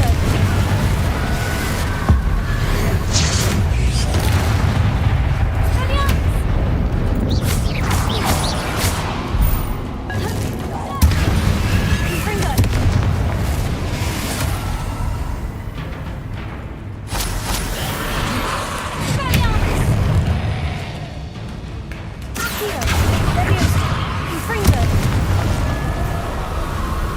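Confringo fire-blast spells explode repeatedly in a magic-school wizarding game, producing heavy booms and crashing bursts at irregular intervals amid combat noise, with a player's voice talking throughout.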